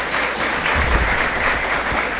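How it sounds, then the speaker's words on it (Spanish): An audience at a summer school keynote lecture claps for the speaker, with a full, continuous round of applause and a few low thumps underneath and no talk on top. "les pido, le demos un fuerte aplauso al doctor Iván"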